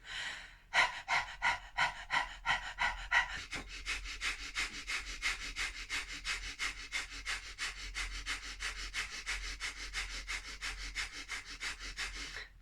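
Rapid rhythmic nasal breathing of a breath of fire exercise, dozens of sharp even sniffs and exhales through the nose at a steady fast pace, close and clear with no talking.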